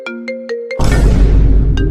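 A phone ringtone plays a short run of evenly spaced electronic tones, then a sudden loud burst of broadband noise swamps it before one more tone surfaces near the end.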